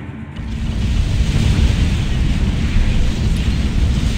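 A rumbling explosion in the Freelancer space game with the Crossfire mod, a sustained deep roar that swells and holds loud for several seconds, with no voices over it.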